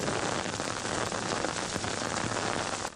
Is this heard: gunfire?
no